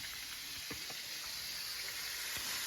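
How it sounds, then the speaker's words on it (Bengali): Meat sizzling and frying in a pan at a home picnic, a steady hissing crackle with a few soft stirring knocks, fairly faint and close, no talk. "চলছে এখানে মাংস রান্না"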